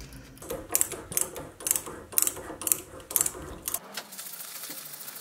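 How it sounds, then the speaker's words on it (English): A compact tap holder cuts M8 threads into holes in the base of a vintage machinist die filer. Close, sharp ratcheting clicks repeat in about seven even strokes, then give way to a softer scraping hiss, with no voices. "The holes were then tapped for M8, and a compact tap holder really comes in handy in situations like this."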